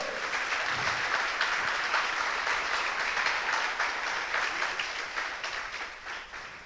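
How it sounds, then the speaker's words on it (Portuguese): A church congregation applauds in sustained, dense clapping that holds steady and then gradually fades toward the end, with no voice over it. "Você pode aplaudir o nome do Senhor?"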